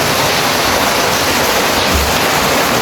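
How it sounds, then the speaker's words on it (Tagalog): Heavy rain falling outdoors as a dense, constant roar, loud and even throughout with no voices. "Ang lakas ng ulan."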